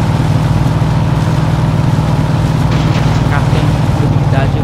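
Car engine running in the video game My Summer Car, a steady low droning rumble throughout with people talking over it.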